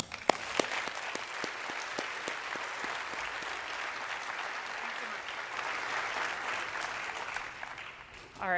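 A lecture audience at a combustion symposium claps steadily to welcome a professor, sustained even applause with a few sharper claps near the start, fading at the end.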